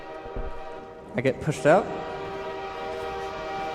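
Half-Life 2 train ride, with a brief burst of horn-like tonal blasts over a steady rumbling interior hum, while a person talks over it.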